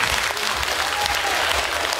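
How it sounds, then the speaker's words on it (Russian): Audience applause fills a concert hall at an annual school recital, a steady, dense wash of clapping from a large crowd, even and sustained throughout with no voices over it. "Давайте подарим аплодисменты."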